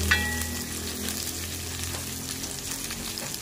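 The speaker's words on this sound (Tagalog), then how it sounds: "Lagyan na natin ang ating sibuyas at luya." Onion and ginger sauté with garlic in a pan, giving a soft, continuous sizzle with faint crackle, fairly quiet and close, with no talking.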